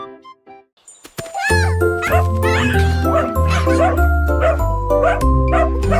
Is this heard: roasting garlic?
no